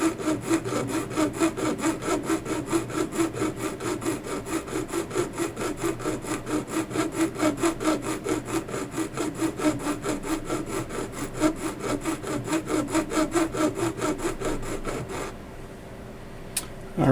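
A small file rasps rhythmically across a watch dial foot, steady close strokes repeating for about fifteen seconds before stopping.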